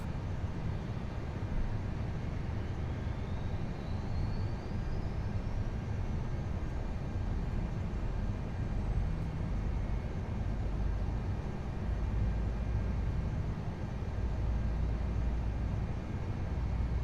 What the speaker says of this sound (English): That sounds like we've got some good engine starts, which we do. So with that, 2 and 1 can get started.